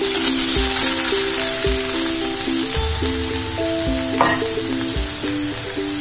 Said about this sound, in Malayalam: എണ്ണ ചൂടായപ്പോഴത്തേക്ക് ഞാൻ നമ്മുടെ ഉള്ളിയെ അതിനകത്തേക്ക്